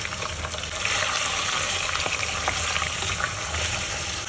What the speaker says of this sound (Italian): E ora lo mettiamo a soffriggere.